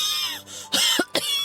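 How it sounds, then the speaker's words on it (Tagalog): A person coughs twice, sharply and close by, after a stretch of low background sound. Each cough is a harsh, throaty burst. "Ang sama ng tunog ng ubo mo."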